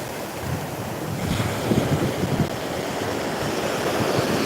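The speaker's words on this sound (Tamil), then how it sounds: "அலைகள்லாம் பார்த்தீங்கன்னா அந்த மண்ணோட கரைச்சி போட்டு பாருங்க பார்க்கறதுக்கு எவ்வளோ வேகமாக இருக்கு பாருங்க" Ocean waves break on a beach in a steady, loud wash of surf with wind buffeting the microphone, continuous rolling noise and no talk.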